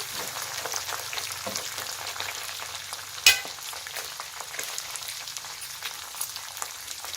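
Dried red chillies, halved, fry in hot tempering oil for tamarind rice, a steady close sizzle with light crackles and one sharp clatter partway through.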